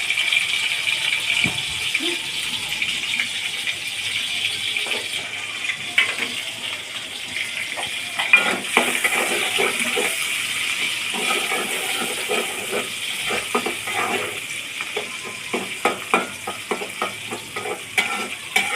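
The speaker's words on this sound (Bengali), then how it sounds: "এখন তেল ঢেলে নিচ্ছি। এই তো পেঁয়াজ আর মরিচটা ঢেলে দিলাম।" Onion and chili sizzle and crackle in hot oil in a pan, a loud, steady frying hiss with scattered clinks and scraping of a utensil against the pan throughout.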